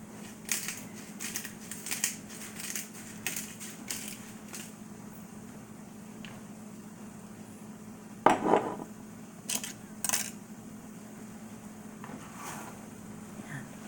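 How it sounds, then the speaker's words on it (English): Fresh black pepper being cracked from a grinder over food: a run of quick, dry crunching clicks close by, followed later by a few louder isolated clatters and knocks. "And then some fresh cracked pepper."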